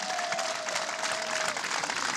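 An audience claps steadily and fairly loudly throughout, a dense wash of applause with a faint tone running under part of it.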